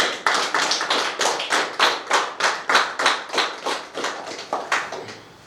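Sustained applause from a seated group at a civil wedding ceremony, a steady run of hand claps with a rhythmic pulse lasting several seconds, close and fairly loud with no talking.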